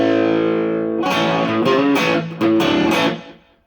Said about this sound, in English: It's a little too much distortion